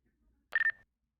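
A short phone-dialing DTMF chirp used as an effect in a Philly drill beat, a single bright electronic beep of under half a second, heard alone after near silence.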